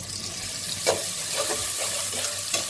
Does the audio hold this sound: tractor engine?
no